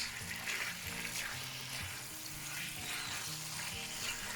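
Yakisoba noodles stir-fried in a pan with Worcestershire sauce and sugar, a soft, continuous sizzle with repeated scraping and tossing of the noodles, heard alone.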